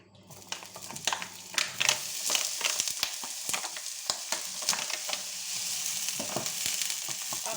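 Bacon lardons crackle and sizzle in a pan for a tartiflette, with a dense, close frying hiss broken by sharp pops and spits that build soon after the lardons go in.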